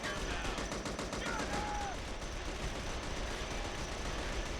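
Squad gunfire in the video game The Outfit sounds as a steady, rapid rattle of machine-gun and rifle fire, dense and continuous but somewhat distant and low in level, with a voice talking over it.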